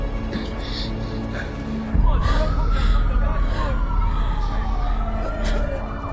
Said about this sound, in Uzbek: Sirena ovozlarini eshityapsizmi?